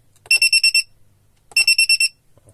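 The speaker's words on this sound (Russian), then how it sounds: "Я заклеил тут пищалку, громко пищит." Two loud bursts of rapid electronic beeps from a taped-over buzzer on an airsoft electronics device, five or six shrill tones each, separated by a short pause.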